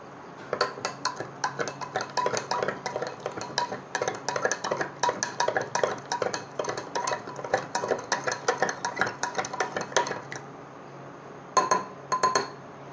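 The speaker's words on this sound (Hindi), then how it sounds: "यहाँ पे 2 चम्मच हम क्या करते हैं, इस कैल्शियम ऑक्साइड को लेते हैं" A spoon scoops calcium oxide powder from a glass container during a classroom chemistry experiment, producing rapid bright clinks and scrapes in an uneven rhythm, then a short pause and a few final taps.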